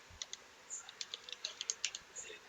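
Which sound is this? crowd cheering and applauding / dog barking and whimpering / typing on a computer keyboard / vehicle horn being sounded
typing on a computer keyboard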